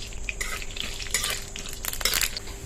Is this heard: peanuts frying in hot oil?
yes